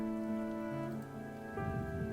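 Rain falls steadily outdoors as a soft, even patter, with a low tonal hum running underneath and no voices.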